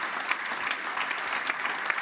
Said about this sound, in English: I'd ask you to give all of our speakers today a huge round of applause